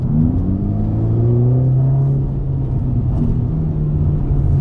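A Ferrari Roma engine in race mode revs and holds a deep, rising drone, loud and close, with gear-like pitch sweeps and a continuous rumbling roar.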